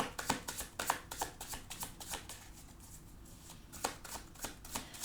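Tarot cards are shuffled by hand in a quiet room, giving a string of crisp riffling slaps and flicks in an uneven rhythm, close up and soft, with no talking.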